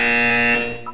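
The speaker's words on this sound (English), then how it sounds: "When you hear the buzzer, look up at the ceiling." A buzzer in the video game Portal 2 sounds a loud, steady electronic drone with a bright harmonic tone lasting about a second, alone with no speech.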